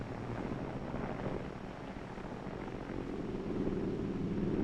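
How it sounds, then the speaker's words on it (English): Carrier aircraft landing on an aircraft carrier deck, heard as a steady, loud broadband roar of engine and wind noise that swells slightly near the end, with no distinct impact standing out. "There's the cut, and the last plane hits the deck."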